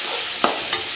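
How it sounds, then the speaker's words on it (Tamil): Ingredients fry in a pan, giving a steady close hiss broken by two brief stirring scrapes within about a second. "இது வந்து ஓரளவுக்கு ஃப்ரை ஆகட்டும்"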